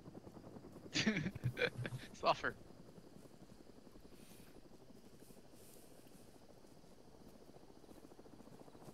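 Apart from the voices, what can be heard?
helicopter flying overhead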